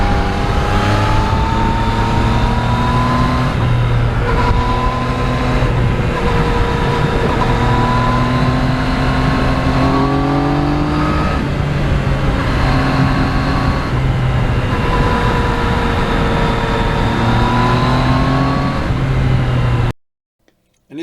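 A 2020 Yamaha MT-09 motorcycle engine drones steadily while riding on partly wet, potholed roads, its pitch rising and falling with gear changes under constant wind rush, loud and close throughout.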